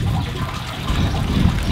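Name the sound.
fresh water running from a mountain fountain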